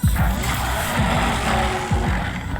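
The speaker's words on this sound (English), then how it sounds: "Jelly Drift is a car drifting game with really twitchy but addictive driving controls" Engine of a twitchy drift car in the free itch.io game Jelly Drift, revving in repeated rising sweeps, a few seconds long, over a steady, dense background of game sound, with no talk.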